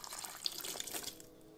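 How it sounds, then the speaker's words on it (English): Soaked raisins and their soaking water are poured in for mole poblano, a soft, faint splashing trickle of liquid that runs for about a second before fading away. "Next, you're gonna add your soaked raisins with 1/3 of a cup of your raisin water."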